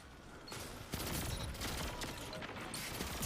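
Rapid bursts of pulse rifle gunfire in Destiny 2, loud and steady with layered shots and mechanical clatter throughout, no talk over it.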